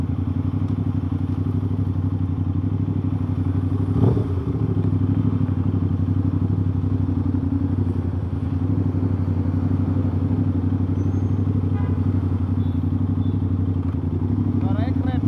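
An Aprilia RS660 two-cylinder motorcycle with an aftermarket exhaust runs steadily at a low, throaty idle with one brief thump partway through, while people talk over it.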